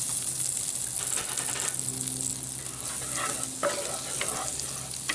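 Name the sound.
butter melting and sizzling in Dutch oven over fire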